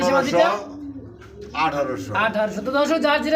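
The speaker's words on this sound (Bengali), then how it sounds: "লাখ টাকার কবুতর লাখ টাকার কবুতর হাজার টাকায়" Pigeons at a bird market coo in soft, throaty bursts close by, overlapping with someone talking loudly through most of the stretch.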